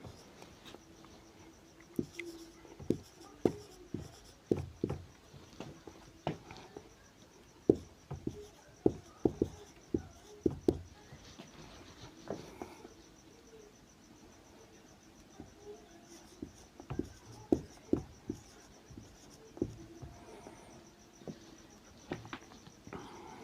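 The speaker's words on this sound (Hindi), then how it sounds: "तो चलिए एक सीरीज लिखते हैं डिसेंडिंग आर्डर का।" Pen or chalk writing a number series in descending order for a Hindi maths lesson, heard as a long run of short, quiet scratching taps in irregular bursts with pauses, close by and without talk.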